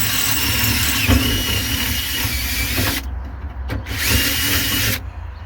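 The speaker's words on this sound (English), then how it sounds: "drill out the existing holes to 1/4 inch" A power drill bores out the existing door lock holes to 1/4 inch on a Kodiak work truck, a loud steady close whine that cuts out briefly twice before stopping near the end.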